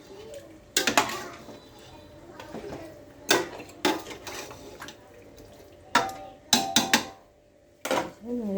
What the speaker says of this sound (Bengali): নেড়ে চেড়ে নিলাম